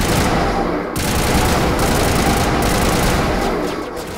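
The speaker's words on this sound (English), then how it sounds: "Where are you shooting me from?" Enemy gunfire in Mass Effect: dense, loud, continuous rattling of automatic weapons at close range, with a short break near the start before the barrage resumes.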